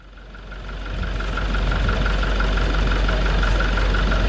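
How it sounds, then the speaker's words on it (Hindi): A Toyota Innova Crysta BS6 diesel engine idles after a full overhaul. It gives a steady, close, continuous rumble with a faint knocking texture, and the loudness rises slightly over the first second, then holds even. "इंजन का साउंड बढ़िया है।"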